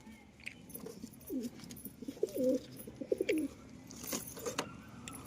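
A pair of pigeons coos softly in a home loft, low rolling calls in a few short bursts at moderate distance, with faint background rustle and clinks.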